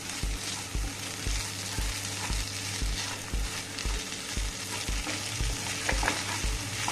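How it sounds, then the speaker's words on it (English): A spoon stirs grated coconut, potatoes and vegetables in a hot pan, with regular scraping strokes about twice a second over a constant sizzle, close and fairly loud, no talk. "Next we need to mix all these ingredients together."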